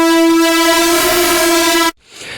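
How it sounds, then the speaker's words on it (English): A raw sawtooth synth tone from the Massive X synthesizer holds one steady, buzzy pitch for almost two seconds and then cuts off abruptly, leaving only faint residue. It is loud and alone, with no voices. "We've got a saw wave here that sounds like this"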